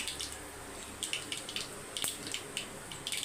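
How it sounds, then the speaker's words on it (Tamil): Water runs in a soft, steady hiss with faint splashy crackles, quiet and close, with no voices. "தண்ணி ஊற்றிக்கலாம்"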